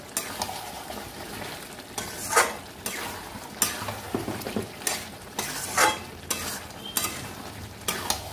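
Chicken curry with kasuri methi being stirred in a pan: repeated scraping strokes of a spoon against the metal over a continuous sizzle of oil, close and fairly loud, no speech.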